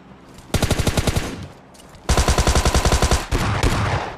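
Gunfire in the game PUBG Lite comes in three loud rapid bursts of repeated shots, each rattling for a second or so, separated by short pauses.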